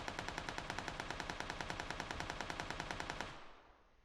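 Rapid machine-gun fire in the shooter game PUBG, a loud, fast, evenly spaced stream of shots lasting a few seconds before cutting off and fading, no talk over it.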